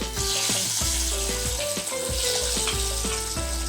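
Eggs fry in a pan with salt and chili powder for egg biryani, a steady close sizzle that runs throughout, with musical tones playing alongside and no voices.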